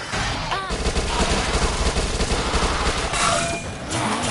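Rapid sustained SMG gunfire in a video game, a dense loud burst of shots running almost without pause, with layered game noise behind it.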